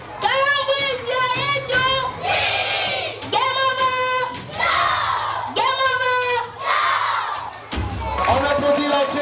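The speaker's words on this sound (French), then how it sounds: "On applaudit l'entrée du directeur sur nos ovations" Children and adults at a primary school event shout and cheer in loud, repeated bursts of whooping voices as the headmaster enters, a dense crowd roar rising and falling throughout.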